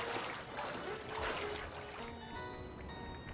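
Water pours and trickles in the video game Sly 3: Honor Among Thieves, a soft continuous splashing rush that thins toward the end, with no speech.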